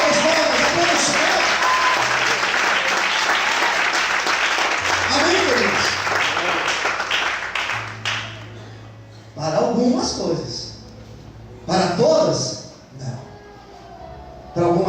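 A church congregation claps and worships aloud for several seconds, the dense applause then thinning out into scattered bursts as a voice speaks between them.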